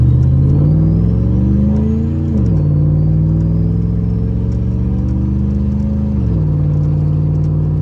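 A truck with a leveled suspension: the engine revs up under steady acceleration at 50 to 60% throttle, pitch rising then dropping twice as gears shift, with constant road rumble.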